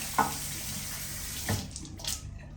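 Shisha parts rinsed under a running tap, water splashing and rushing close by with a couple of clunks of the parts against the sink, then trailing off, no talking.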